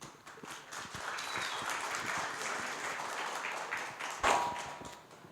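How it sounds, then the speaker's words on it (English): An audience at a crypto community conference in Athens gives a round of applause for a panel, a sustained dense patter of clapping at moderate distance that swells briefly near the end before fading. "So please give a great round of applause to our next panel."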